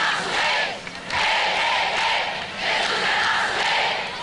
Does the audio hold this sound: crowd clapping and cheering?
yes